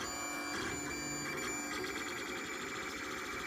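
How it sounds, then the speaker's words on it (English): A LulzBot Mini 3D printer runs steadily, its stepper motors whining in sustained tonal buzzes that shift pitch as the print head moves, quiet and continuous with no talk. "For being a small printer, it has a very large build volume."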